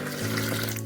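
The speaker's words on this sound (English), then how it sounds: "Now we're going to pour the tea in our pitcher." Hot brewed sweet tea pours from a coffee pot into a pitcher in a steady, splashy stream that runs for under a second at a moderate level.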